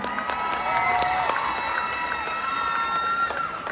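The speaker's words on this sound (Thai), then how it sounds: "ปรบมือให้ตัวเองได้ไหมคะ" Fans applaud and cheer at a live event, a steady wash of clapping and shouting voices with a few sharp claps and whistle-like tones standing out, loud and continuous throughout.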